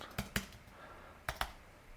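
A few sharp computer keyboard keystrokes come in two close pairs, separated by a quiet gap, fairly near and alone with no talk.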